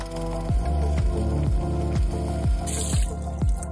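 Water splashes and drips as a greasy metal microwave filter is rinsed and scrubbed with a brush, with rhythmic wet strokes repeating about every half second at close range and no talking.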